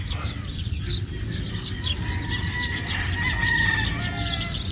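A Boston Black gamefowl broodstag rooster crows and chirps close by, with repeated bird calls over a steady background hiss and low rumble, no talk.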